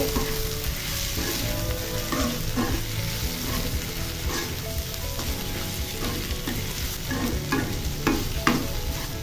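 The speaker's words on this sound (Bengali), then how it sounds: "এই পর্যায়ে আমি সবগুলো লাউর খোসা আলুর সাথে আমি ডিমটা মিশিয়ে দিব।" Egg stirred together with gourd peels and potatoes in a frying pan, giving a steady, dense sizzle with repeated scraping stirs of a spatula throughout and no voices.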